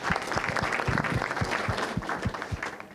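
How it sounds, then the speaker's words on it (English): A group in a meeting room claps, a dense patter of many hands with individual sharp slaps standing out, fairly close and steady for a few seconds, with faint voices underneath. "we all deserve a round of applause in this room"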